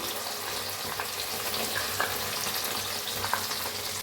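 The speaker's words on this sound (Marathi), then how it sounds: "छान असं भाजून घेऊया मसाला" Ground red chilli masala paste fries in a pan for a mater paneer curry, giving a loud, continuous close sizzle with a few faint stirring scrapes.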